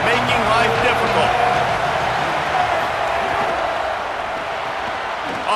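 Home crowd noise fills a college football video game stadium, a constant loud roar of the crowd with a commentator talking over it.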